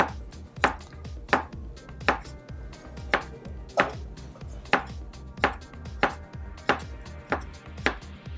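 Ripe plantain sliced diagonally with a knife on a board, about a dozen crisp, evenly spaced chops roughly every two-thirds of a second, close and clear, with no talk.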